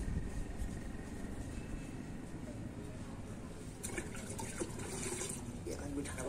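Water is poured in a home kitchen, a steady splashing, running flow close by that grows brighter and more agitated toward the end, with a faint hum underneath.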